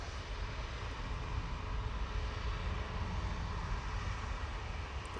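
An airliner arriving from New York lands in a crosswind at Manchester Airport, giving a continuous, fairly faint engine rumble and rush with no other sounds.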